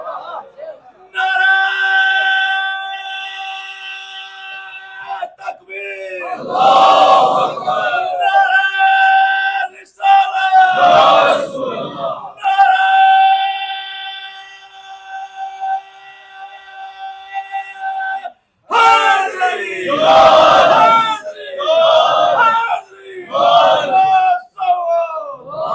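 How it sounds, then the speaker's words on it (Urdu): A large majlis congregation chants religious slogans and salawat in loud, sustained unison bursts, alternating with stretches of a single amplified voice, the crowd's roars swelling and fading several times in a reverberant hall. "آپ نے اتنی اچھی صلواتیں بھیجی ہیں, نعرے لگائے ہیں"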